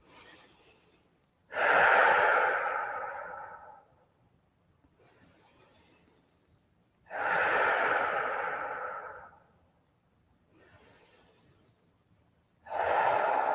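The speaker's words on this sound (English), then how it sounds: "Let's take 3 deep breaths together, in through the nose, out through the mouth." Three slow, deep breaths, each drawn in through the nose and let out through the mouth, close and clear with quiet pauses between, in a calm guided meditation setting.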